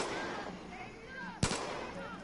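A single sharp gunshot cracks out in Far Cry 5, cutting through low background game ambience.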